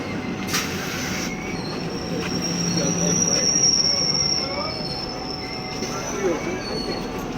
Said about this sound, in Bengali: গাড়ির সংখ্যা 37231 of Howrah Bandel local 4 নম্বর প্ল্যাটফর্মে আসছে